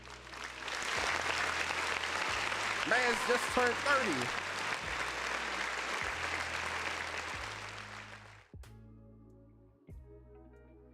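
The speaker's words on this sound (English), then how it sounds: "Round of applause for Cooper." A group claps and cheers for a man's 30th birthday, applause loud and steady for about eight seconds over a thudding music beat, then stopping as the beat continues; someone speaks over the clapping.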